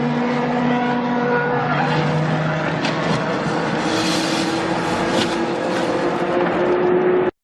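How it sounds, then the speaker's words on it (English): Race cars crash on a track, tires skidding and squealing in a long loud screech with engine noise and impact crackles, cutting off abruptly at the end. "Oh, an impact! What a crash!"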